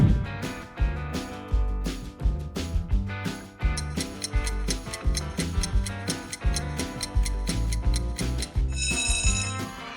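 An Oppo smartphone ringtone plays a bright, bell-like melodic pattern of quick chiming notes, clear and prominent throughout with no talking.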